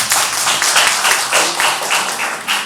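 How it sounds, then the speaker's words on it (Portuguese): An audience claps steadily in a dense, even round of applause at a literary award ceremony, loud and close throughout with no voices over it. "Eu peço uma salva de palmas."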